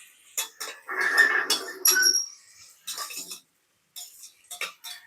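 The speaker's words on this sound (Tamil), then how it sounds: "ஆட் பண்ணி கிண்டிக்கலாங்க." Onions and green chillies stirred in a pan, a metal spoon clinking and scraping against the pan in short separate bursts with brief pauses, close and clear, with no talking.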